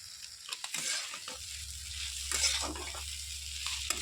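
Maggi masala and chilli powder being stirred into a pan: a quiet sizzle under a low steady hum, with intermittent scrapes and clinks of a spoon against the pan, close.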